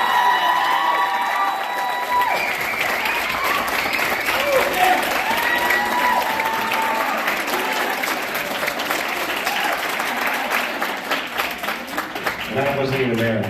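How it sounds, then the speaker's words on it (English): A school auditorium audience gives sustained, dense applause with some cheering for a high school wind ensemble's championship. The sound is loud and even for over ten seconds, with a few voices rising above it near the end. "Can we have all of you stand and take a round of applause for your championship won just last year?"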